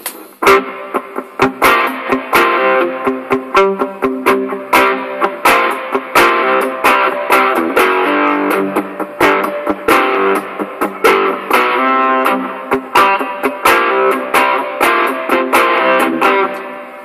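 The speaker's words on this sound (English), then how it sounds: "Okay, let's try with a bit of overdrive on that." Overdriven electric guitar runs through a Digitech Hardwire RV-7 reverb pedal set to plate. Loud, dense chords and riffs are picked with sharp attacks over a continuous reverberant sustain, heard alone.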